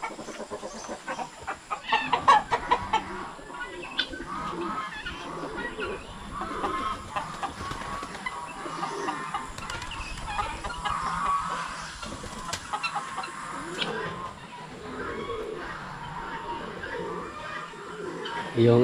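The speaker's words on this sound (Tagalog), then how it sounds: "Nagsimula na po dumami yung ating mga alagang manok dito" Chickens cluck and murmur steadily nearby, with occasional louder squawks, while a person talks over the flock throughout.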